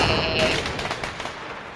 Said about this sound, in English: Orange and green fireworks.